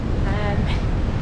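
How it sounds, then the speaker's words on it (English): Gusty wind buffets the microphone beside a choppy sea at St Bees, a loud continuous rumble with surf washing underneath, and a voice briefly audible within it. "A little bit windy down by the sea. The sea is very, very choppy."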